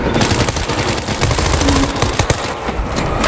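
Rapid automatic gunfire from World War Z, loud and close, with dense bursts of shots and fusillade-like rattling throughout, no speech.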